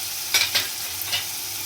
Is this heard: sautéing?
yes